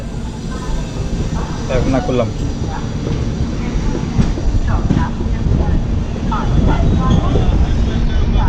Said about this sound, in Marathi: इथे पण एक ट्रेन थांबले